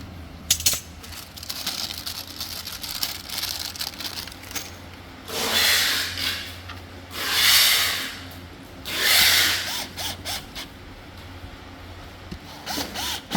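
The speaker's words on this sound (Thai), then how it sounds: "แล้วก็จะยิงน็อตเป็นน็อตตัว C นะครับเป็นน็อตยาวตัวนี้ ยิงด้านหลังสองตัวครับผม" A power drill drives long screws into the back of a WD6010 dressing table: three loud whirring bursts of about a second each, separated by quieter rustling and handling of parts.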